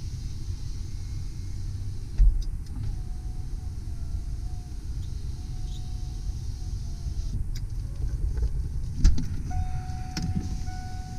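The power windows of a 2002 Ford E150 Sherrod hightop conversion van whir up and down in a couple of steady electric motor runs, soft and close over the idling engine's low rumble, with faint clicks as each starts and stops.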